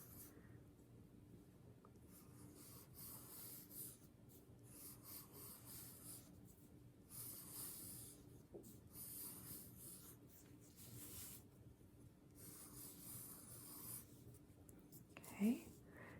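Pencil sketching on paper, drawing a figure of Poseidon: a faint, steady scratchy rubbing of graphite strokes continuing throughout, quiet and close, with a soft knock near the end.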